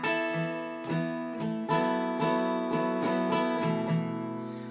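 Acoustic guitar strumming one slow measure of Oasis's "Wonderwall" in a syncopated rhythm, with clear repeated chord strums and sustained ringing strings, close and alone with no talk.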